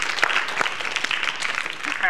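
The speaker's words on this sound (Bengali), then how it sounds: "হেনার জন্য বড় একটা হাততালি" An audience applauds a young girl called up on stage at a children's television show, with steady, dense clapping throughout the short stretch.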